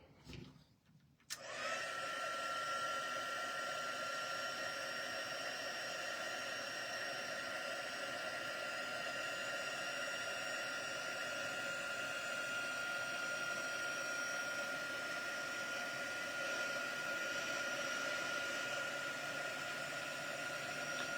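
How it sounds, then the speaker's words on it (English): Heat gun blowing close by to melt embossing powder for heat embossing a birthday card, switching on after a brief quiet moment into a steady, loud whooshing hum with a high whine that runs unbroken to the end. "heat emboss time"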